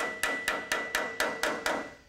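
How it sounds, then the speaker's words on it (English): Hammer striking sheet metal against a dolly to straighten an edge on an overlander truck body, seven light, evenly spaced ringing metallic taps, close and clear. "I'm using a hammer and dolly here to straighten out this edge"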